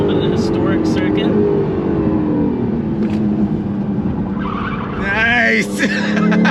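A 2024 Acura Integra Type S with a V6 turbo accelerates on a race track, its engine droning steadily with tire squeal and skidding cutting in, while people talk inside the car over the noise.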